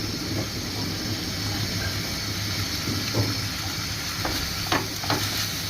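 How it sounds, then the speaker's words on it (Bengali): Garlic paste sizzles and fries steadily in hot oil in a pan while being stirred, a constant close hiss with occasional scraping taps. "1 চামচ রসুন বাটা দিয়ে আমি ভালোভাবে নাড়াচাড়া করে নেব।"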